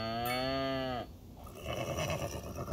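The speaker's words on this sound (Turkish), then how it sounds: "işte koyunlar var, kuzular var, işte damızlık ineklerimiz var, süt ineklerimiz var" Farm livestock in the city-building game Cities: Skylines II, with cows, dairy and breeding cattle and sheep: one long, loud, drawn-out moo, then quieter mixed farm-animal ambience.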